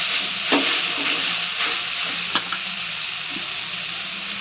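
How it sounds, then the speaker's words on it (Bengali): Water spinach (kalmi greens) fries in a pan in a home kitchen, giving a steady hiss and sizzle with a few soft clinks of stirring. "এদিকে মা তখন কলমি শাকটা ভাজছে"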